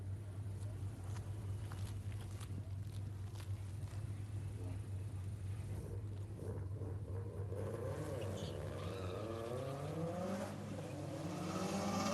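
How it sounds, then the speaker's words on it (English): A Subaru's boxer engine pulls hard down a drag strip at a JDM Euro night, a low droning engine note that stays steady and then rises in pitch as it accelerates, heard from a distance with crowd noise around. "Definitely hear that boxer motor in the Subaru working hard."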